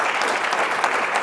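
A conference audience claps in a brief, dense burst of applause, steady and loud throughout.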